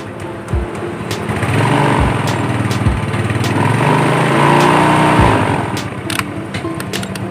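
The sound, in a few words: Yamaha Mio Sporty motorcycle engine running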